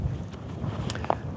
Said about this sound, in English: although it was extremely windy.